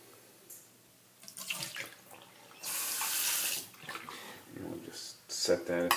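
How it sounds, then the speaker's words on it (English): A soapy hand is rinsed under a running tap at a sink while shaving, with water splashing and gushing at close range in uneven bursts and a steady rush through the middle. "let me rinse my hand off"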